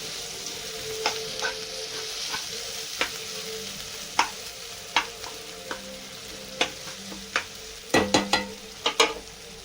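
Tomato masala frying in a pan for a chicken dish, a continuous close sizzle broken by frequent sharp spoon scrapes and clacks that bunch together toward the end, with no voices.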